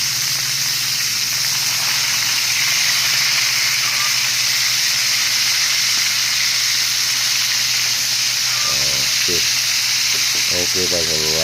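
Pieces of bullet tuna (tulingan) fry in hot cooking oil, giving a loud, continuous close sizzle and hiss. A voice speaks briefly near the end.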